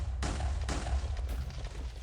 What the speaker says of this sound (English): Keep forgetting that's explosion and not fire shots